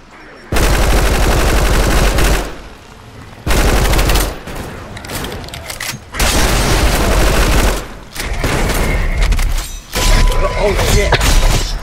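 Shotgun blasts from a horror-survival video game, fired in several loud bursts separated by brief pauses, with crashing impacts and game noise throughout.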